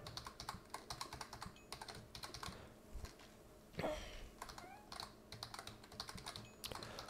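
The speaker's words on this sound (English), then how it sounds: "I just gotta stop clicking so fast." Rapid mouse and keyboard clicking while playing PlateUp!, a fast, dense clatter in bursts with a brief pause midway, close and fairly quiet.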